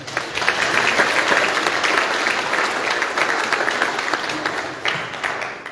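A church congregation applauding at an Easter puppet show, a dense, even spell of clapping sustained for several seconds, fairly close and full, with no talking over it.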